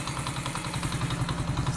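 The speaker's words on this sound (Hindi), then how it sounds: "अब इंजन का भी साउंड सुन लें दोस्तों" A Honda CD 70 motorcycle engine runs at a steady idle, its rapid even putter and light mechanical clatter close and continuous.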